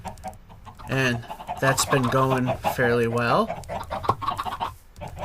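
Minecraft chickens clucking on a chicken farm in the game, short pecking clucks heard beneath someone talking continuously.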